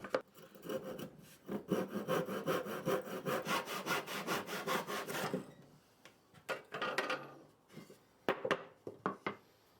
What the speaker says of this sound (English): saw the ends off using a tenon saw